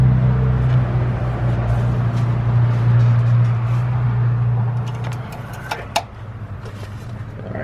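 A 2001 BMW 330Ci (E46) engine idling just after an oil change, a steady low hum close by with faint background clatter and a few small knocks near the end.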